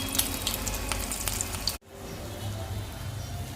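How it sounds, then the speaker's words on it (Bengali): Stuffed flatbread (pahari chapati) frying in hot oil in a wok over a low gas flame, a steady close crackling sizzle that drops out briefly midway and then resumes, with no talking. "এই পুর ভরা এক একটা রুটি এক একটা করেই ভাজবো ছেড়ে দিচ্ছি"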